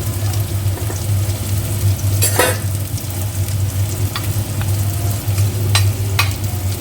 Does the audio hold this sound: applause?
no